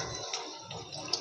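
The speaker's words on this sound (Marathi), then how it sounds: "मसाल्याचं भांडं सगळं धुवून घेतलं" Tap water rinsing out a metal spice pot in a home kitchen, a quiet continuous splash and trickle with a couple of brief bright clinks, heard close and alone.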